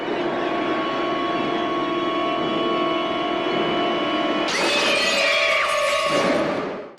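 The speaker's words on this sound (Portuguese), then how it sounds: "o pescador quebrando aquela porta de vidro" A glass door shatters in a horror film scene as a fisherman-killer breaks through it, a sudden loud crash of breaking glass cutting in over a sustained tense tone, then ringing shards fading out.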